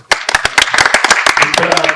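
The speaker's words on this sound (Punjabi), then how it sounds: "ਸੋ ਇਹ ਤਾੜੀਆਂ ਮਨਵੀਰ ਬਾਈ ਦੀਆਂ ਨੇ" Close, lively clapping from a small group in honour of Manvir, a burst of sharp overlapping claps that starts abruptly and runs steadily for about two seconds.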